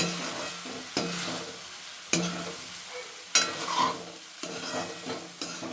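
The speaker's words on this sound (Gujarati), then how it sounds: "એને સરખી રીતે આપણે હલાવી લઈશું એટલે મસાલો બધો સરસ રીતે એમાં ભળી જાય" Manchurian rice being stirred in a pan over low heat, with a soft sizzle and several sharp clanks of a spatula against the pan at irregular intervals.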